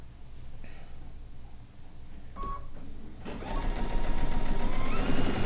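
A sewing machine running a straight stitch set to a 2 mm length through rag quilt layers, starting after quieter handling and then whirring steadily, loud and close, with no talking over it.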